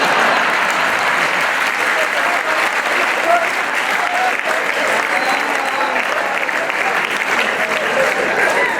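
A large audience at a Hindi comedy poetry show applauds, a dense, steady wash of clapping that holds loud and even for the whole stretch.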